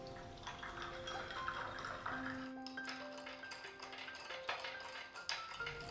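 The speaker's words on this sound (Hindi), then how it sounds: "अब इन मैंने ऊपर पानी डाल डाला।" Water is poured into a glass of raw mango and mint sharbat at close range, a steady trickling pour with small drips and pings against the glass, quiet and unaccompanied.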